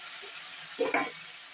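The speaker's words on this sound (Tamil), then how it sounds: "இந்த பருப்பு இந்த அளவு வந்து நல்லா வறுபடட்டும்" Lentils fry in a pan for white pumpkin poriyal, a quiet hiss broken by one brief burst of stirring and sizzle.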